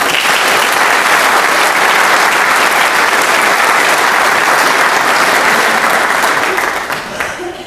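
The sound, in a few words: audience applause at police awards ceremony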